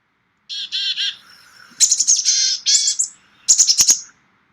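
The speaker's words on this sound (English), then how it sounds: "I'm going to play the song of a black-capped chickadee and then of a boreal chickadee" Recorded songs of a black-capped chickadee and a boreal chickadee play in turn: clear, bright whistled and buzzy phrases in short bursts separated by pauses, loud and close against a silent background.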